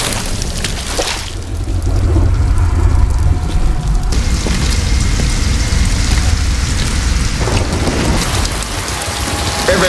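Heavy rain pours steadily on a surface in a dark TV drama scene, with low rumbling thunder booming underneath; the downpour stays loud and continuous throughout, with no voices.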